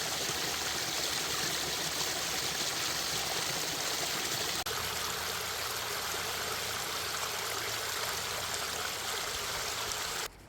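A river flows in a loud, continuous rush of broadband water noise near the microphone, steady throughout with no voices.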